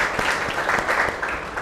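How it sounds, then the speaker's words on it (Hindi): Classroom audience at a talk on life management breaking into brief applause, a dense wash of clapping at close range without voices. "ठीक है, बहुत बढ़िया, तालियां।"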